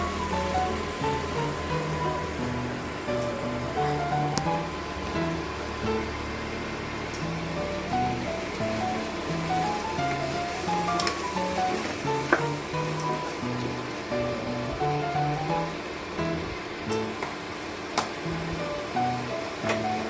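Mutton curry simmers and sizzles in a pan, a continuous soft bubbling crackle with occasional clinks, close and steady throughout with no speech.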